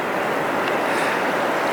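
Surf crashing along the Oregon coast, a steady broadband wash of breaking waves with wind buffeting the microphone, continuous and fairly loud throughout with no voices.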